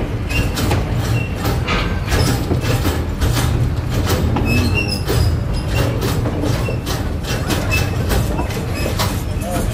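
The Andean Explorer train passes through the Juliaca market street, giving a loud, close, continuous rumble with rapid wheel clicks and occasional squeals, while faint voices sit underneath.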